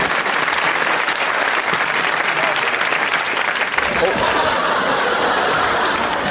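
A television studio audience on a comedy music quiz show applauds heavily and steadily, with chuckles and scattered talk mixed into the clapping.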